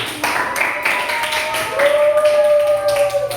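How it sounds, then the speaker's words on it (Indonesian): Children clap hands together in a brief burst of applause in a classroom, mixed with a voice and a sustained tone in the background. "Tepuk tangan untuk Zulmi."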